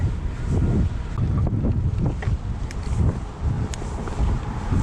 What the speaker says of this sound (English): That headwind is quite punishing.